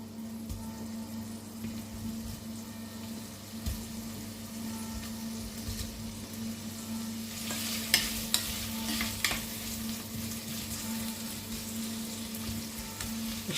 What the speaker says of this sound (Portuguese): Deixar ele fritando aqui.